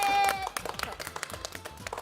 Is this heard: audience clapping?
yes